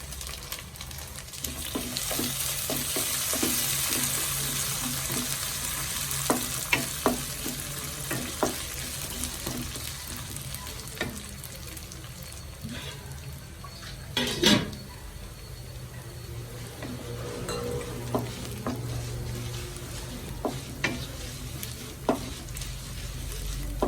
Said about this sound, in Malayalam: അതിട്ട് കൊടുക്കാം. ഒന്ന് വറുത്തെടുക്കാം.